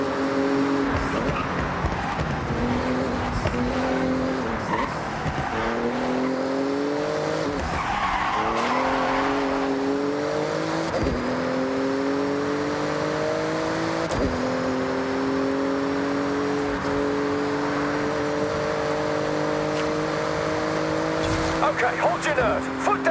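A Porsche races through a speed zone in Forza Horizon 6, its engine climbing through rising gear pulls with repeated shifts and some tire skid, loud and close, with a voice talking over it.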